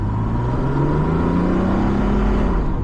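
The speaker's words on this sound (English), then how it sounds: "Engine is warm, so we can give it some revs" A vintage 1960s Mercedes 230 SL (W113) engine, warmed up, revs up close, its pitch climbing steadily as it accelerates, loud and continuous throughout.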